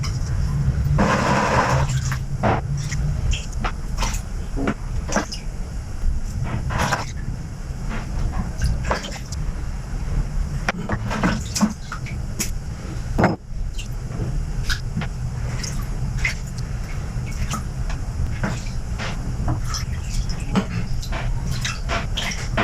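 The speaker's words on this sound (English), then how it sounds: "now water rinsing." Metal and aluminum parts being rinsed with water after an acid cleaning, giving irregular splashes, drips and clinks over a low running-water rumble, close by.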